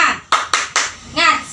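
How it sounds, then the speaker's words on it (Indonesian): A class of schoolchildren does the rhythmic tepuk semangat clap, three quick, crisp hand claps in a row followed by young voices chanting together in the classroom. "Ibu akhiri dengan tepuk semangat dulu, ya."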